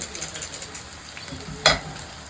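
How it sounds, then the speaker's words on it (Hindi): Mooli (radish) kebabs fry in a pan over lowered heat, a steady soft sizzle running throughout with one sharp brief crackle or clatter near the end. "अब आंच बिल्कुल थोड़ा कम कर देता है कि जले नहीं ना हमारा कबाब, अच्छा कलर का आएगा"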